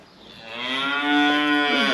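A cow in a farm herd lets out one long, loud, close moo that swells in volume and holds steady to the end.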